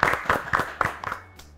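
Studio audience applauds contestant Palwasha on an Afghan quiz show, a short burst of clapping that fades out quickly.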